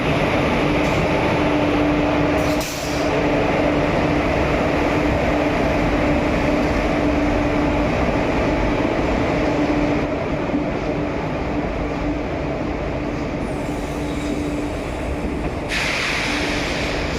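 At a station, an arriving train gives off a steady, fairly loud rumble and airy hiss that carries on unbroken for a long stretch.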